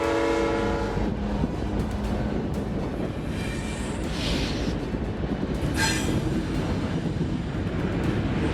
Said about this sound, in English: This is how aircraft are transported by train